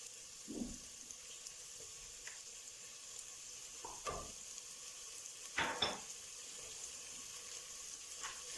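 Celery stalks and tomato paste saute in a pan with a soft, steady sizzle. A few faint scrapes and clicks from stirring break through the quiet frying hiss.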